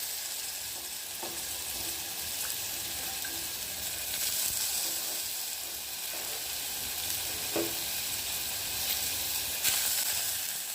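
Wild mushrooms sizzling in hot oil in a pan, a constant crackling hiss with occasional pops and stirring scrapes, close and steady throughout.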